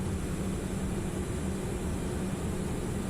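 A steady, loud engine roar with broadband rushing noise fills the cockpit as the TFDi MD-11 airliner's engines spool up for takeoff in Microsoft Flight Simulator 2024.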